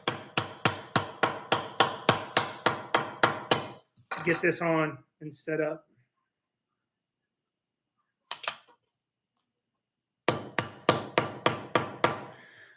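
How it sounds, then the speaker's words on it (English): Rapid bursts of sharp hammer taps drive Mould King Eclipse plastic building pieces into place, each run about a dozen evenly spaced knocks, close and loud, broken by a stretch of speech and pauses before the tapping starts again. "Even the hammer struggles"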